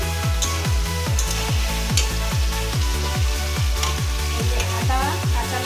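Garlic sizzling and frying in a covered pan while cooking aloo paneer curry, with steady loud sizzle and a regular series of stirring scrapes throughout, no voices.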